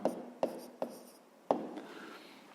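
A pen or pencil writes a number on paper, four sharp tapping strokes followed by soft scratching, close and quiet with no voice.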